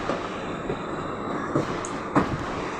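A passenger train runs with a steady, loud rumble heard from inside, broken by a couple of brief clacks from the wheels.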